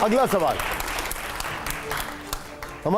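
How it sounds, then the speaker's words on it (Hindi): Studio audience applause on a Hindi TV show, a dense steady wash of clapping heard clearly, with a voice speaking over it at the start and again at the end. "जोरदार तालियां हो यहां पर"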